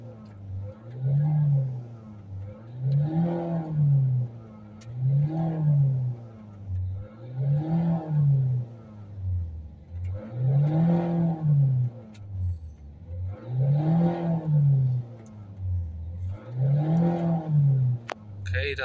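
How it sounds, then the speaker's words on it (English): Ford Focus C-Max 1.6 TDCi diesel engine revved repeatedly while warming up, about seven rising-and-falling bursts spaced a few seconds apart, close and loud with a steady idle between. "We're going to give it a few accelerations."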